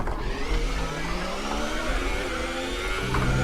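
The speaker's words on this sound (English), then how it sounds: "As we spin it and go off into the gravel trap here." An F1 2018 race car in a video game spins off the track into a gravel trap, its engine droning steadily with a continuous rough rumble of tyres and gravel, loud and unbroken with no talk.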